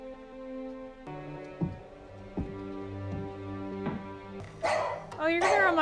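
A dog barks several times in short bursts at mid-distance during a war drama scene, with a sustained musical score underneath and a voice speaking over it.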